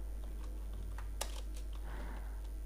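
Someone types PHP code on a computer keyboard in a quiet room with a constant low hum. A few soft, close key taps come irregularly, with one sharper keystroke near the middle.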